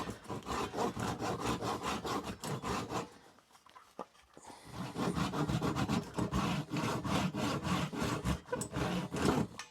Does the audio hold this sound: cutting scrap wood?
yes